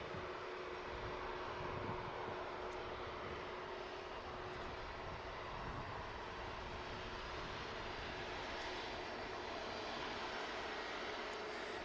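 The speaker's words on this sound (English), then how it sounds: "Aer Lingus 330 on the way over with the CF6 is going to sound brilliant from over here" An Aer Lingus Airbus A330 with CF6 engines moving near Manchester Airport, a continuous moderate jet rumble with a steady whine, unbroken and free of talk.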